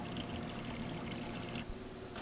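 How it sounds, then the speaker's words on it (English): Aquarium water pours steadily from a tank into the 5-gallon buckets that carried new tang fish, a continuous close splashing stream with no talk, ending with a brief dip near the end. "draining some of that water into the buckets that I brought the new fish in"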